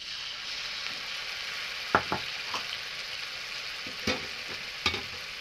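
Onion and mustard paste frying with spices in oil for a puti fish dish, a steady low sizzle broken by a few sharp clinks of a spoon stirring the pan.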